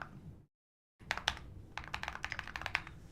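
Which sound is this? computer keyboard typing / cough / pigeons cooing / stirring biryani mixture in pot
computer keyboard typing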